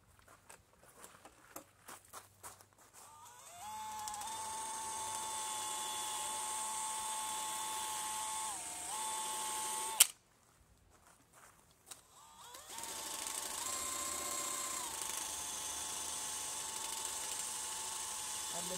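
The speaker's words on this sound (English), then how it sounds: "I've been kind of running it at low speed so it doesn't get too hot." An eraser wheel tool spins against VW Atlas paint to strip an emblem, a steady whining drone that runs for several seconds, cuts out briefly, then resumes.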